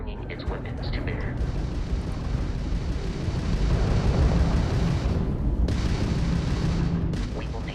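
Space combat in Starfield as a Crimson Fleet pirate ship opens fire, a dense, sustained roar of weapon bursts and booming blasts that rumbles loudly for several seconds, with voice chatter mixed in.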